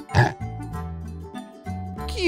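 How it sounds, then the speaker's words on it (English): Short grunting oinks from a pig, a loud burst at the start followed by lower snorts, over a steady musical background. "Pig."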